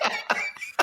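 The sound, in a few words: cough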